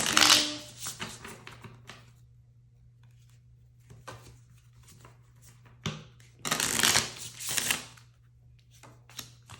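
Tarot cards are shuffled in several quick riffling bursts separated by quiet pauses, with a faint steady hum underneath and no talk.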